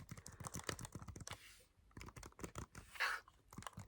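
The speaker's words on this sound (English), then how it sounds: "I really enjoy typing" Fingers type on a computer keyboard close up and softly, in quick irregular runs of key clicks separated by brief pauses.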